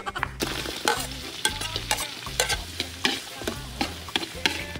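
Garlic and onions sautéing in butter in a hot pan for pork menudo, with a continuous sizzle broken by repeated rhythmic stirring scrapes and knocks of a spatula, close and fairly loud.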